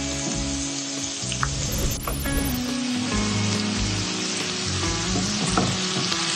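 Onion and garlic fry in a pan for a mashed bharta, giving a steady, close sizzle and crackle with occasional stirring scrapes and clinks throughout.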